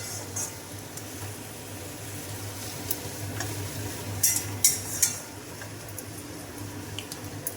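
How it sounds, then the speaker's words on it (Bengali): Onion, capsicum and tomato fry in a pan with a low, even sizzle, while a utensil scrapes and clinks against the metal in a few sharp bursts partway through. "দেখো আমি এর মধ্যে তোমার পেঁয়াজ আর ক্যাপসিকাম, টমেটো এগুলো সবই দিয়ে এবার হালকা হালকা লালচে লালচে করে ভাজা ভাজা করছি"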